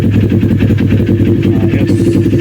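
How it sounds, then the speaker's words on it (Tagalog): A CF Moto GT400 big bike motorcycle engine idles steadily and loudly after a cold start, a dense, even, rumbling clatter close up with no talk over it. "Testing, cold start."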